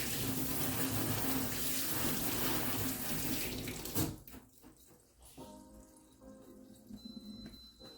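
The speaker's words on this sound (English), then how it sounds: "Wash my hands." Hands washed under a running kitchen faucet, a steady rushing stream of water that cuts off about halfway, leaving quieter drips and handling sounds nearby.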